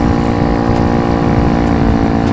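A Venom minibike's small engine with a new 12-inch front wheel runs loud and close, a steady buzzing drone with no pauses.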